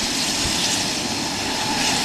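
Airplane engine running at Aurora Municipal Airport, a loud, steady broadband roar holding constant throughout without pauses or voices.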